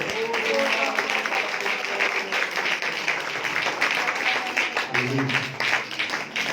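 A congregation at a prayer meeting claps together in a dense, sustained burst of applause, with a voice speaking over the rhythmic hand-clapping throughout.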